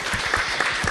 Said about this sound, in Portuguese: Já agora uma salva de palmas.